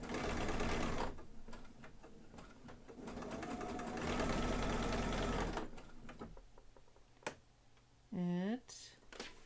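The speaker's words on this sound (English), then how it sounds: "look, the machine just kept on sewing" Sewing machine stitching in a home sewing project, a rapid loud mechanical whir in long runs that pause and restart, with people talking over it and a short squeaky tone near the end.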